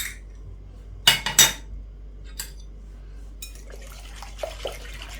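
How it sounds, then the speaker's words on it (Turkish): A few sharp clinks of a utensil against a bowl as oil, egg, vinegar and baking powder are whisked together, followed by quieter, softer tapping and liquid stirring. "malzemelerimizi güzelce çırpalım öncelikle"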